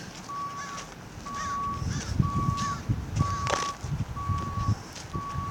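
Steady, evenly spaced reversing beeps from a dump truck in the background at a gold mine in Julian, repeating alone over a low outdoor rumble with no talking.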